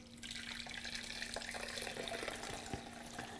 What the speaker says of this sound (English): I am actually going to carefully pour this liquid into this container